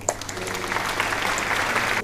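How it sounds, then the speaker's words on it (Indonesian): Classroom applause for a student group after their presentation, many hands clapping in a full, steady burst that stops abruptly at the end. "Beri tepuk tangan semuanya untuk kelompok 3."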